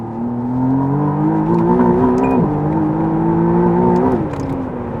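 A McLaren Artura engine revs hard and climbs in pitch through the gears, with a quick shift midway, loud and close, no talking.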